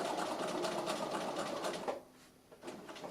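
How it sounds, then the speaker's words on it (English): A sewing machine stitches a delicates bag near a French seam, running in a fast, steady close whir that stops abruptly, followed by a brief restart. "I'm going to stitch up to just before that French seam shows"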